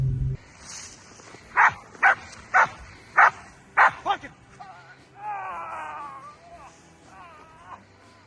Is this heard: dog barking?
yes